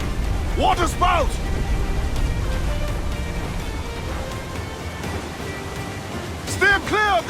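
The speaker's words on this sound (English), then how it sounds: "Water spout!" Stormy sea and wind roar around a water spout at sea in Assassin's Creed 4 Black Flag, a steady rushing wash of water under the noise of a sailing ship, with voices calling out near the start and end.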